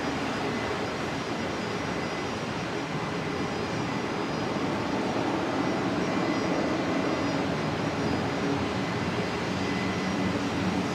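A jet airliner taking off from runway 01 right at Brisbane Airport, a loud, steady engine roar that fills the whole stretch without fading, with no voices over it.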